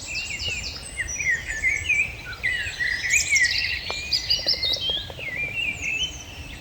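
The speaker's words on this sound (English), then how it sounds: "Nice little thrush singing up there as well." A thrush sings up in a tree on a Welsh golf course on a fine morning: clear, loud, varied whistled phrases repeated close by, with fainter chirps and a soft outdoor hiss underneath.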